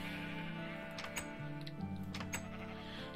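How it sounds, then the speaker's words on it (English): Sheep bleating in the Minecraft video game, with white, red and black sheep kept on a breeding farm; soft wavering bleats run under steady game music and light ticking throughout. "This is my white and red sheep, and the black sheep over there with the breeding."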